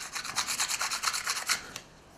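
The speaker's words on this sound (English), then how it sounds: "So I'm just going to rub down on sandpaper, just a fine grit, get the last of those fibres off." A feather quill rubbed down on fine-grit sandpaper makes close, steady rasping strokes, about a dozen in quick rhythm, before trailing off into quiet.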